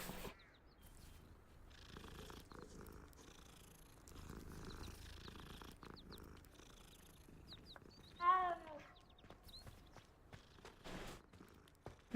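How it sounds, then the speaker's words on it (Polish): A cat purring softly while being petted in the video game Hogwarts Legacy, a faint continuous rumble with footsteps and a short mewing call partway through. "I pogłaskaliśmy kotka."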